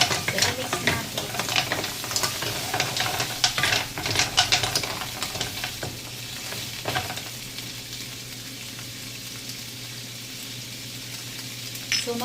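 Kohol snails are stir-fried in a pan: busy scraping and clattering stirring strokes over a loud sizzle for the first half, then a steadier, calmer frying hiss.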